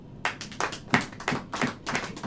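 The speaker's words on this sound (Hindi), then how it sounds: "आप ताली बजाओ।" A congregation claps together at a church worship service, a crowd of hands beating a steady, fairly brisk rhythm of about six or seven loud bursts with no talking.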